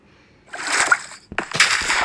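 Splashing from swimming in water in the video game Minecraft, two bursts of sloshing game splash sound, fairly loud and close, with no talk over it.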